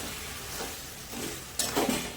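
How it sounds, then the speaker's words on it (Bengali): Fish is stirred and sautéed in a hot pan with a little jaggery, a steady close sizzle broken by scraping stirs and a brief louder clatter of the spoon. "এবার ভালো করে মাছটাকে কষতে হবে"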